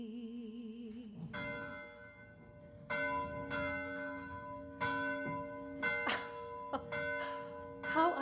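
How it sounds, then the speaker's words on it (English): A church bell rings in repeated, resonant strikes, each clang ringing on with a long sustained hum before the next, several blows spaced irregularly and growing louder toward the end, following a brief tonal passage at the start. "How I love the sound of that bell."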